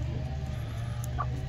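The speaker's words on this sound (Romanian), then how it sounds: "Găinile de mătase dorm aici pe buștenii ăștia" Japanese silkie hens cluck softly inside an enclosed outdoor aviary, a low steady flock murmur with one brief brighter call near the end.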